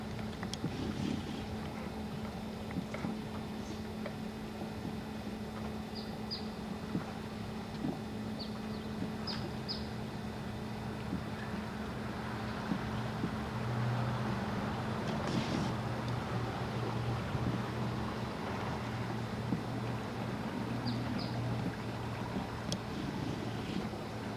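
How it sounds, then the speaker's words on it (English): Fast-flowing river water released from a dam rushes in a steady broadband wash, with a low engine-like hum and wind buffeting at the microphone throughout, no voices. "if you listen, you can hear the sound of the water going by it so fast"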